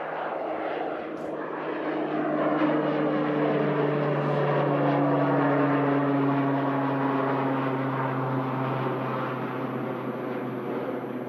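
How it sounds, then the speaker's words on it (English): A Pilatus PC-12 turboprop taking off from Manchester Airport, bound for Blackpool, its steady propeller drone and engine roar strong and continuous throughout, loud and close with no voices. "And out goes Silver Aviation's PC-12, heading out to Blackpool"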